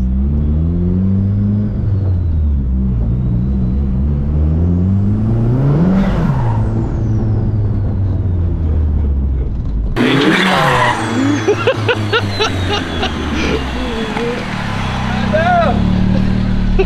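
A rear-wheel-drive Honda Civic accelerates hard, its engine note climbing through revs, dropping at a shift, then rising again, loud and close from inside the car, with wind and rattles building at higher speed.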